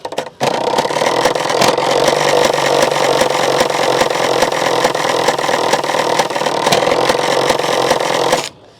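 A bicycle rigged to mimic a Bullet motorbike, ridden to give a steady, loud, rapid thumping engine-like chatter for about eight seconds before stopping abruptly.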